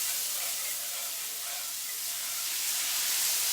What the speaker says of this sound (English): So we are whisking in the chicken stock.